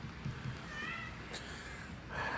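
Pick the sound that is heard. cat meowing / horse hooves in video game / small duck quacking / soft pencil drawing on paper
cat meowing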